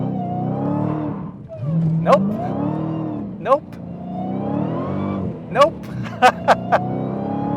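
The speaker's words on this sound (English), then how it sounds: "This will be the first time I'm gonna actually try to put my foot to the floor and just see what happens." A Dodge Challenger Hellcat taken to full throttle from a roll without launch control, its engine roaring and climbing in repeated surging pulls, close and loud, with a voice speaking briefly over it.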